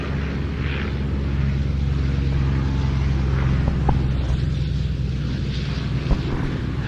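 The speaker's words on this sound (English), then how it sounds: "as we get the two naval fighters of the fighter collection airborne underneath, the Bearcat, followed by the Wildcat" Bearcat and Corsair naval fighters, propeller-driven warbirds, taking off at an airshow flying day, their engines a steady loud droning roar throughout with no talk.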